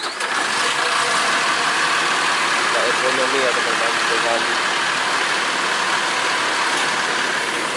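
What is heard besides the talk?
Intra bus engine idling at bus wash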